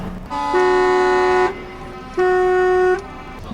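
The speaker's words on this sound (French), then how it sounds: "si tu conduis, il faut klaxonner" Two long, loud blasts of a truck horn during a parade of decorated trucks, each lasting about a second, separated by a short pause, with a steady harmonic tone.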